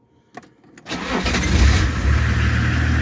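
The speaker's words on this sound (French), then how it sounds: "Là, elle a bien démarré." A BMW 325 TDS with a hot-start problem cranks with a few brief clicks, then its diesel engine catches and settles into a steady, close idle rumble.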